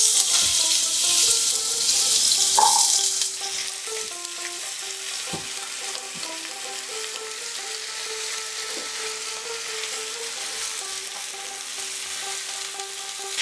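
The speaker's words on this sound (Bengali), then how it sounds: "১ টেবিল স্পুন নুন দিয়ে এটাকে লো টু মিডিয়াম ফ্লেমে আমি আলুটাকে ভালো করে কষে নেব।" Diced potatoes frying in mustard oil over low to medium flame, a bright close sizzle that eases after a few seconds into a steadier frying hiss, with occasional spoon knocks and light music behind.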